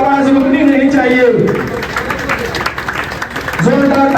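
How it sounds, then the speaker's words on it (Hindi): A crowd at an AIMIM political rally in Jale, Bihar breaks into loud applause welcoming a prospective candidate, with an amplified voice speaking over the clapping before and after. "जोरदार ताली से स्वागत किया जाए"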